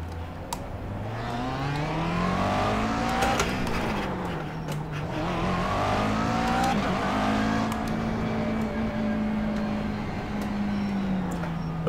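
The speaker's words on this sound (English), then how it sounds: "just in case you can't hear me over the actual engine noises" Race car engines in the iRacing simulator drone and rev continuously, pitch rising and falling through gear changes and corners, with occasional cars passing close by, loud and steady throughout.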